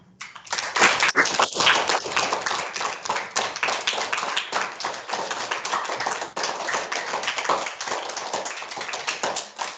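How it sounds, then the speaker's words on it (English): Hands clapping at a school assembly as a pupil receives a certificate, a dense, steady round of applause from a room of children and staff that starts within the first second and carries on loudly for the rest of the clip. "And we'll give her a clap."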